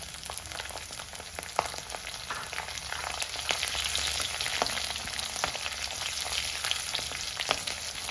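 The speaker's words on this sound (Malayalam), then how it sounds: "പച്ചമുളകും ചേർത്ത് നന്നായിട്ട് വഴറ്റണം" Ginger and green chillies sautéing in a pan for Kerala-style tomato curry, a continuous close sizzle with fine crackles and occasional stir clicks, steady in level, with no talk.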